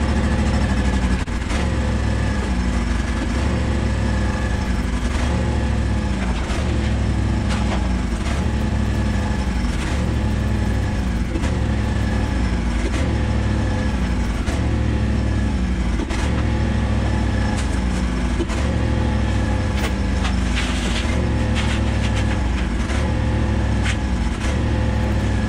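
A lawn mower engine runs up from a cold start and settles into a steady idle, chugging with a regular pulsing throb, loud and close, with no voices.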